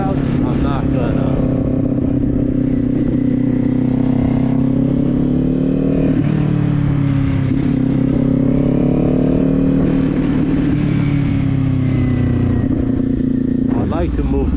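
Motorcycle ridden in cold weather, a steady close engine drone with rising and falling pitch as the throttle shifts, plus wind rush, while the rider talks over it.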